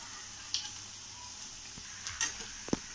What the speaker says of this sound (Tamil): இந்த மாதிரி எல்லா போண்டாவையும் திருப்பி திருப்பி போட்டு வேக வச்சு விடுங்க